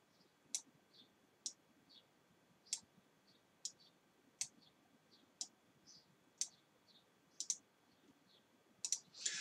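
Computer mouse clicking while drawing and dragging shapes in Photoshop: a steady series of about a dozen sharp, close clicks at fairly regular intervals, alone over a quiet background.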